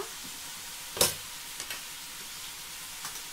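Food cooks in a little oil in a pan, giving a steady, soft sizzling hiss close by, broken by a few sharp clinks and scrapes of stirring, with no talking.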